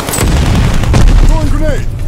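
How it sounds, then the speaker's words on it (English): In Call of Duty Vanguard, an incoming artillery shell whistles down and lands in a heavy boom amid ongoing battlefield gunfire, brief and loud. "Enemy shell coming hot."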